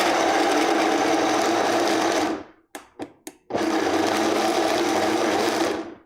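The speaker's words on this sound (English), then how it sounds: "We're just going to pulse it a couple times." A blender pulses a batch of gazpacho, running in long loud motor bursts with a brief stop-start stutter of short pulses between them.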